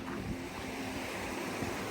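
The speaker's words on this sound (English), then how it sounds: "This is the river that we've got across." River water rushes steadily along Iceland's Laugavegur hiking trail, a continuous broadband wash mixed with wind buffeting the microphone, with no voices.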